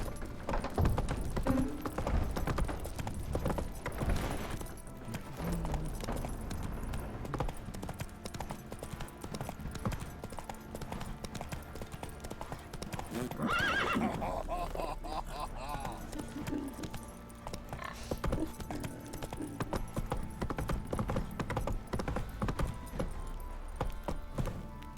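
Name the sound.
horse Roach galloping in video game The Witcher 3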